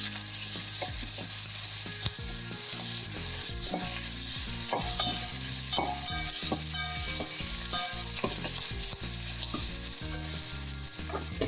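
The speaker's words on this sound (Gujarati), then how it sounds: "આપણા ગાજર મરચાં એમાં એડ કરવાના છે અને આવી રીતે આમ હલાવવાનું છે" Carrots and chillies are stirred into hot tempering oil with popped mustard seeds and asafoetida, giving a continuous sizzle and scraping stir sounds beneath loud background music, with no voices.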